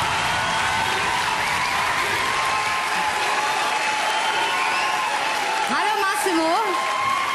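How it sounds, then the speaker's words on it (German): A large audience applauds steadily for children who have just performed on stage, a dense continuous clapping, with a brief whistle near the end. "Dicken Applaus für die Kids bitte nochmal."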